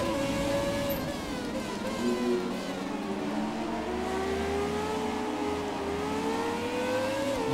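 Williams FW18 Formula One car engine in the F1 2017 racing game, a loud continuous high-revving whine that rises and shifts pitch through gear changes, with no talking.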